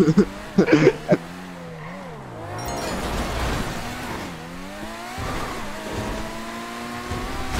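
A car spins out in the video game GTA V, its engine revving and whining through changing pitch as the tires skid, after a few sharp knocks at the start; people talk over it.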